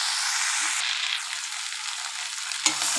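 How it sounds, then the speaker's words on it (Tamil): Ivy gourd sautéing in hot oil gives a steady, loud broadband sizzle that runs throughout, with a brief louder clatter of stirring near the end. "பாருங்கள், இந்த எண்ணெயிலேயே நல்லா காய் நல்லா வதங்கணும்."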